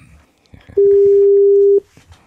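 A steady electronic telephone line tone sounds loud and alone for about a second as a call is placed, with faint talk before and after it.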